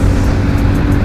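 A TVS Ronin 225 motorcycle engine revs hard on open throttle, a loud, close, continuous roar for about a second.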